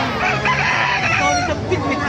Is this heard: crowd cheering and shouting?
no